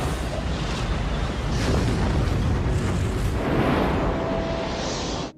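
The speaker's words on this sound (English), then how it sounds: "These are some of the scenes in the Reykjanes Peninsula of Iceland after a volcanic eruption began" Volcanic eruption on Iceland's Reykjanes Peninsula, a steady loud roaring rumble with broadband hiss and faint bursts throughout, no voices, cutting off abruptly at the end.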